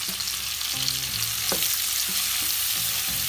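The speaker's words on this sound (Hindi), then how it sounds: "अब इसमें मैं सब ऑनियन जो काट के रखा था प्याज वो डाल देती हूँ।" Chopped onions hit hot oil already cooking turmeric, giving a steady, close hiss and sizzle throughout, with a few brief stirring knocks from the pan.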